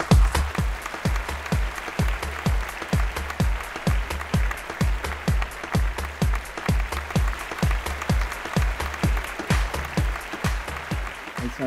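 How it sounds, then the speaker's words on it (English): Audience at a business awards ceremony claps in a steady, rhythmic beat, each clap landing at an even pace with a low thump under every beat, continuing for several seconds. "Please give him a round of applause, ladies and gentlemen."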